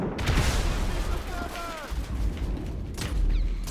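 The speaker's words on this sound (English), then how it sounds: "did you just hear a frag grenade go off?" A frag grenade blast in GTA V, a loud broadband boom with rumbling low end at the start, followed by continued game noise, tonal chirps and another heavy burst near the end.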